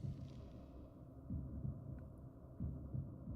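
Slow, muffled heartbeat thuds from the video game Legacy of Kain: Soul Reaver 2, a few evenly spaced double pulses over a low hum.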